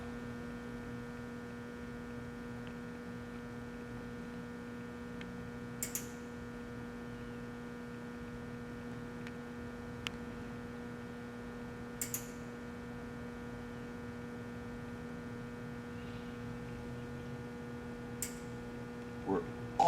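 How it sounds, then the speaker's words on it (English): A refrigerant charging machine filling a car's air conditioning system, heard as a steady low electrical hum with a few faint, brief clicks and hisses over it, and no talking. "we dialed into the machine to charge into the air conditioning system"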